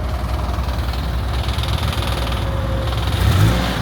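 A used car's engine runs at a dealer auction, a steady close idle with a rough, slightly knocking drone and a brief rise in revs near the end.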